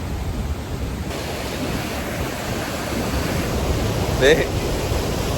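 Water crashing and splashing at Athirappilly waterfall: a close, steady, loud roar of spray that fills the whole stretch without letting up.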